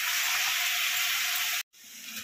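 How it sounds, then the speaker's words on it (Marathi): Bitter gourd fries in hot oil with a dense, steady close-up sizzle that cuts off briefly, then resumes softer and quieter, with no voices. "जोपर्यंत ह्याचा कलर चेंज होत नाही तोपर्यंत आपल्याला कारलं फ्राय करायचं आहे"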